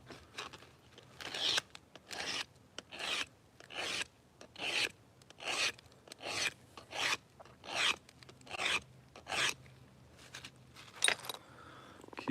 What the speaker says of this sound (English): Sharpen the tool.